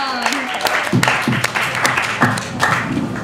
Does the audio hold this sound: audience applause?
yes